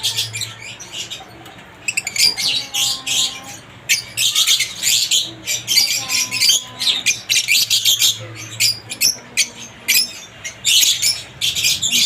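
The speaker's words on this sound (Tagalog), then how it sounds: "Iba-ibang klaseng ibon po yung mga yan." Opaline lutino and cremino pet birds chirping and squawking in quick, busy bursts close by, calls overlapping with brief gaps and a low hum underneath.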